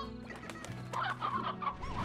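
Chickens clucking in the video game Slime Rancher, a steady run of close, busy fowl calls layered over game music and ambient sound, with no talking.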